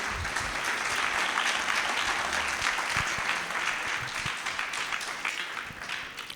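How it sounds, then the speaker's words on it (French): Applause from the audience at a festival talk, steady and fairly distant, fading slightly toward the end with no speech over it. "On peut applaudir"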